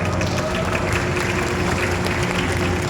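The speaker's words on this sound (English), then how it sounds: "But I need applause." Steady applause from a seminar audience, dense and continuous throughout with a low hum beneath and faint crowd murmur mixed in.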